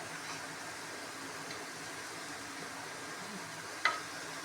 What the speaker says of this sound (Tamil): ஒரு சைடு ஃப்ரை ஆகிடுச்சு இன்னொரு சைடு திருப்பி போட்டுக்கலாம்